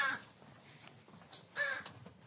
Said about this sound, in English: We're going up to the crow enclosure.